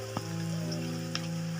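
Chopped green chillies drop into onions frying in oil for dal tadka, giving a steady close sizzle with a brief crackle as they hit the pan; no one speaks.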